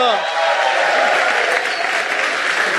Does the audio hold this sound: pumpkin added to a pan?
no